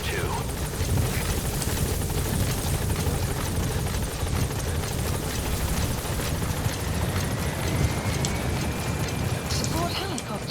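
The support helicopter in Metal Gear Solid V: The Phantom Pain hovers close, its rotor drone and whine loud and constant throughout. Voices speak over it.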